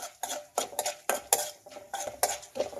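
Chana dal stirred in hot oil in a pan for drumstick sambar, a spoon scraping and clinking against the metal in repeated sharp strokes, close and fairly quiet, with no talking.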